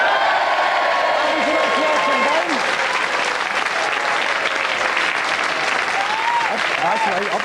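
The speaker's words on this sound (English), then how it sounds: "Give them a round of applause" Sustained studio audience applause for game show contestants, dense loud clapping mixed with cheers, while a presenter's voice talks over it.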